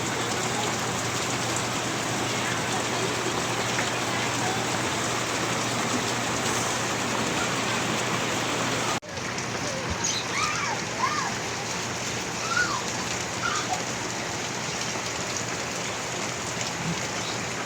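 Steady, nonstop rain falls on surfaces, a dense hiss with scattered splashes and drips, continuous throughout and close, changing character midway as if the listening position shifts.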